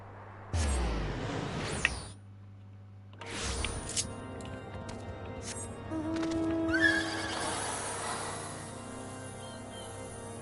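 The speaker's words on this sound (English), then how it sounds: "Get the magic horse out." A magic horse mount in the video game Final Fantasy XIV neighs loudly and whinnies, with hooves clip-clopping and game effects around it, in several bursts with short gaps.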